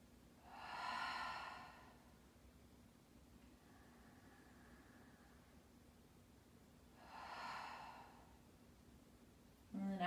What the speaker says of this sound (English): Let's take three deep breaths here.